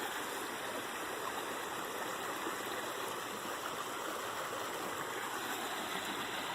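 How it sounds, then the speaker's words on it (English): A creek babbles and rushes steadily near an old grist mill, a continuous broadband wash of flowing water with no talk over it. "I don't know if that's called a babbling brook or what. I call it a creek."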